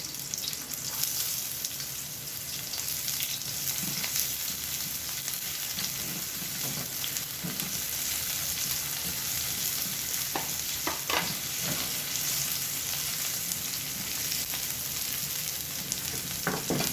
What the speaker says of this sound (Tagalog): Then igisa na natin yung sibuyas. Isunod na natin yung bawang.